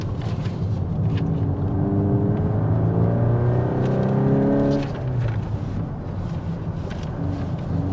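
A new VW Golf R estate (8.5 generation) being driven through sharp corners on a road trip, its engine revving and rising in pitch, then easing off, under steady road rumble.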